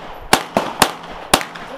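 Gunshots from a firearm at an outdoor shooting range: four sharp, loud cracks in an uneven rhythm, each with a short decay and no talk between them.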